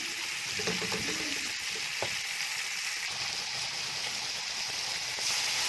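Peas frying in a pan with oil, a soft steady sizzle throughout with a few faint stirring clinks early on, quiet and close.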